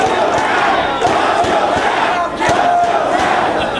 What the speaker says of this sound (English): Homicide heard the fans chanting for Matt Hardy, trying to encourage him on